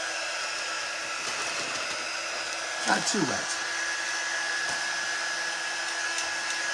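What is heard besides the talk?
hair dryer blowing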